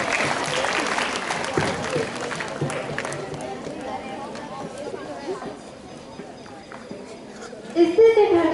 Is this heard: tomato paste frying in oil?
no